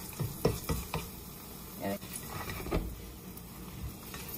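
A vegetable omelette with cheese fries quietly in a pan, soft sizzling with a few scraping stirs and flips as the folded egg browns.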